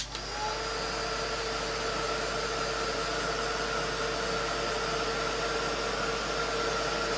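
A heat embossing tool blows hot air in one steady, loud whoosh with a faint tonal whine, running unbroken throughout with no talking.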